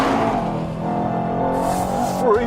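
Mercedes-AMG E63 S four-wheel-drive sedan pulling hard in 4th gear on a race track, a loud, steady engine drone with rising revs throughout, close and continuous with a brief tire squeal near the end.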